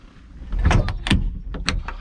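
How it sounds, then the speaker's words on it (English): Cab door of a 2021 Kubota SVL75-2 compact track loader swinging shut and latching, a few close, solid clunks and clicks in quick succession with no talk. "So you can lock the door out."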